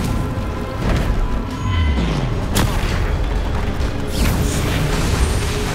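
Fiery blast spell going off in a fantasy wizarding action game, a loud booming explosion with crashing debris over a dense, continuous bed of game noise, with a sharp burst near the middle and further rumbling impacts.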